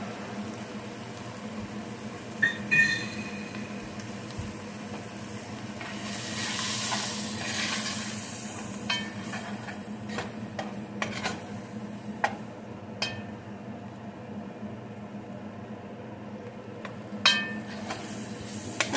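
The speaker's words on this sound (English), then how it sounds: "Put enough oil to be able to cook your flour." Flour and olive oil sizzle softly in a pan on a home stovetop, with occasional spoon stirs and light clinks against the pan over a steady low frying hiss.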